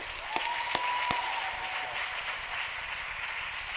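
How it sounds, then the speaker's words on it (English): Applause at a school commencement fills the room as a broad, steady clatter of many hands, with a few sharp individual claps standing out near the start before it settles into an even, moderately loud wash. "So let's have a round of applause for my friend Theo Lestat"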